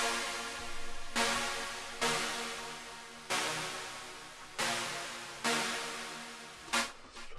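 A saw synth arpeggio pattern dropped an octave sounds as bright buzzy chords with long sustained holds, each struck note swelling then slowly decaying, repeating roughly every second and a bit, with a short faster flurry at the end.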